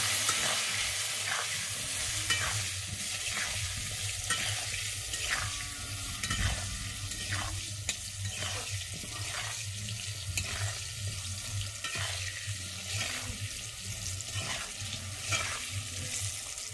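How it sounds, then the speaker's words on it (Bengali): Potato pieces fry in hot oil with a little salt and turmeric, giving a steady dense sizzle with a rhythmic scrape of stirring about every second, close and continuous, with no voices. "দিয়ে আমি আলুটাকে ভালোভাবে লাল করে ভেজে নেব"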